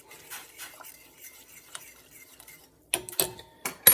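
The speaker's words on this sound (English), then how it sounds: "Stir this up a little bit. Stir it up." Quinoa stirred in a pot with a spoon, a soft scraping and light clinks at first, then a short pause before several sharper, louder scrapes and knocks against the pot.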